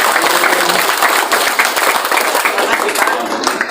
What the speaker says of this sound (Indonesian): Monggo kita berikan aplaus yang sebesar-besarnya